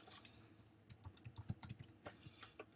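Fingers type on a computer keyboard, a close, quiet flurry of irregular key clicks with brief pauses between bursts of keystrokes.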